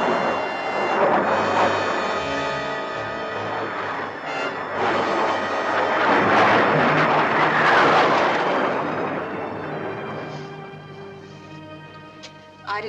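A propeller aircraft flies a low test-flight approach in a 1957 science-fiction film, a loud droning engine roar that swells as it nears, peaks, and fades away over about twelve seconds, with no talking.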